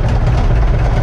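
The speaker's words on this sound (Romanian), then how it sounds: "Auziți cum se aude? Este incredibil sunetul ăsta de motor." A Romanian Universal 650 tractor engine runs close and loud, a steady low rumbling idle with a faint rhythmic throb and no voices.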